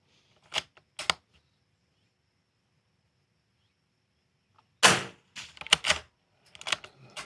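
Rifle shots in an NRL22 match, .22 rounds fired at steel targets outdoors: two sharp cracks early, then after a silence a cluster of louder sharp reports and clanks in quick succession, no talk.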